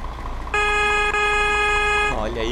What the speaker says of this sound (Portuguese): Vamos dar uma olhada na buzina.